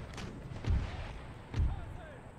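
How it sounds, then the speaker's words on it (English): Artillery bombardment in the strategy game Empire: Total War, with two heavy, muffled booms about a second apart. Each is deep and distant over a low battlefield rumble, with faint voices in the background. "Artillery's still bombarding the center mercilessly."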